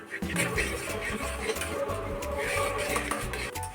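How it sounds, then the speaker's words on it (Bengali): Spoon stirring a drying mixture in a kadai, with repeated scraping and knocking strokes in a steady rhythm, close and fairly loud with faint background voices. "এটা নেড়ে নেড়ে পুরো শুকনো করে নিবি"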